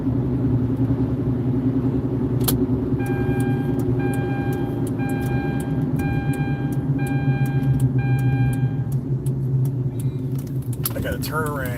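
A car driving at night, with a steady low road and engine rumble throughout and a repeating electronic chime pattern over the middle, under ongoing talk from the driver.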